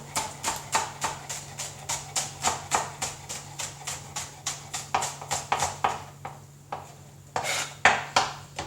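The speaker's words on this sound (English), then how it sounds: "I'm just dicing all my vegetables nice and small" A knife dices vegetables on a cutting board, dozens of quick, even taps in a brisk rhythm with a low hum underneath.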